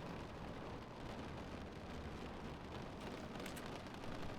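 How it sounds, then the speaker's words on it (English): Steady rain falling in a video game, a dense continuous hiss of drops at even loudness throughout, with no voices. "You can hear the rain."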